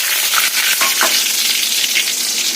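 Shallots hit hot coconut oil already crackling with popped mustard seeds, producing a loud, continuous close-up sizzle with a few brief stirring scrapes.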